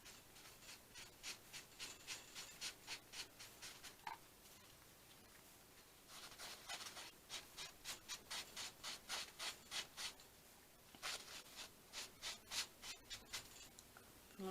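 Colour is rubbed into a small leather journal cover by hand, soft rhythmic scrubbing strokes in steady bursts with short pauses, close but very faint.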